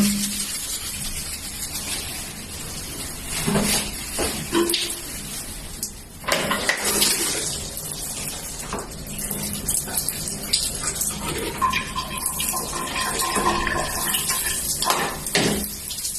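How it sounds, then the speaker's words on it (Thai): Water poured and splashed to rinse a bathroom stone floor after mold stains are scrubbed off with a whitening cleaner, a continuous broad wash of running and splashing water with scattered knocks, close by. "เดี๋ยวจะใช้น้ำล้างให้ดูนะคะ"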